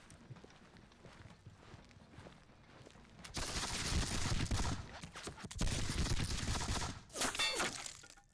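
Bursts of musket gunfire from a Seven Years War battle video game, a Zorndorf scenario: two loud rolling volleys of crackling shots follow a quieter stretch of scattered pops, each lasting a second or two.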